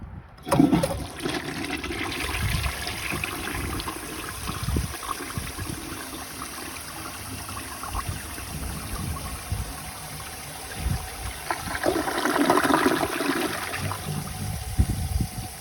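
A 1953 Gerber Arlington toilet flushes a dish towel, with a rushing swirl of water close by, a steady gurgling drain, then a second surge of water as the tank refills.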